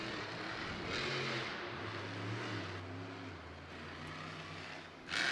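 Monster truck driving in the NRG Stadium arena during a Monster Jam event, a distant engine roar that rises and falls in revs over steady crowd and arena ambience.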